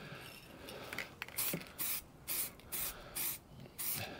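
Spray paint hissing from an aerosol can in a series of short, even bursts with brief pauses between them, faint and without voices.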